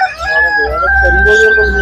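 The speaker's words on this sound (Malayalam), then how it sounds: "ഇത് സാധാരണ നമ്മുടെ നാടൻ കോഴികൾ" Native country chickens clucking and calling up close, with drawn-out, tonal, crow-like notes.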